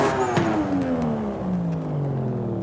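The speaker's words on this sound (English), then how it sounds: "so it already sounds a little bit better" Toyota Supra with a sport exhaust revving in the racing game Forza Horizon 5, a loud, steady engine note that sweeps gradually downward across the whole stretch, with no talk over it.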